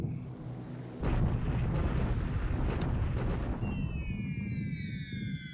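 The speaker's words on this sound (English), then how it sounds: "And those are big bombs too, 500-pound bombs." Heavy 500-pound bombs exploding on a runway in War in the Pacific, a World War II strategy game: a loud, sustained rumbling roar of blasts with no talking, fading toward the end as a high whistling tone sweeps in.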